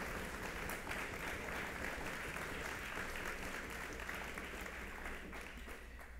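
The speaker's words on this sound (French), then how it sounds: "ça mérite une bonne main d'applaudissements" A conference audience at a speech by the Quebec premier applauds, a continuous even patter of many hands clapping, fairly distant and quiet, without talk over it.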